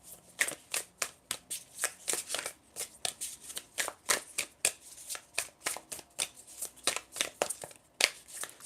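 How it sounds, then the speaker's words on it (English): Tarot cards are shuffled in a steady, repeated riffle of crisp, close bursts, roughly two per second, loud and continuous with no voices. "Let me just switch back to tarot cards for you"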